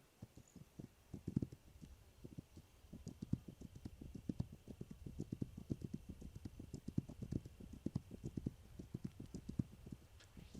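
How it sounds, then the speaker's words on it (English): Horse hooves clip-clop steadily in a video game set in a frontier land, a brisk, even rhythm of close, crisp footfalls that runs the whole time with no voices over it. "Don't want to injure my horse."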